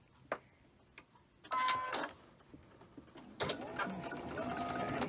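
A domestic sewing machine runs in bursts while quilt blocks are chain stitched, short whirring runs broken by pauses and small clicks, close and moderately loud with no talking.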